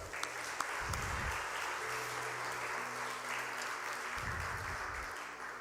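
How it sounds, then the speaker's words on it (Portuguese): Congregation applauding during a Portuguese-language church celebration service, a steady broadband wash of clapping that holds at an even level for several seconds with no voices on top. "Você pode aplaudir ao Senhor, cara."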